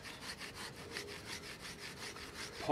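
Knife shaving thin curls from a piece of wood for fire starting: quiet, close, rhythmic rasping strokes repeating about every quarter second, with no voices.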